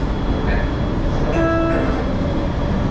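Malaysian LRT light rail train running between stations on the Putra Heights line, a loud continuous rumbling roar from inside the car with brief tonal whines, voices faintly beneath.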